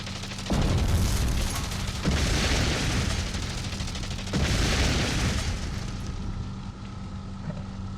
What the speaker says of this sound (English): You gotta shoot these barrels.